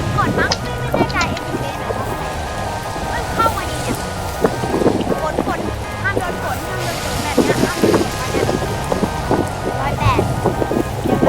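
Rain in a Roblox video game pours as a steady, loud wash with wind-like rushing and scattered crackly impacts, while speech and other game sounds come and go over it throughout.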